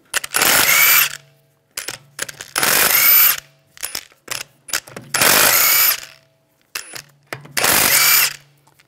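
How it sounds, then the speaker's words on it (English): An impact tool with a 17 mm socket spins lug bolts off the rear wheel of a 2009-2013 BMW 328i xDrive in four loud, close bursts separated by short clicks and pauses. "take the lug bolts out."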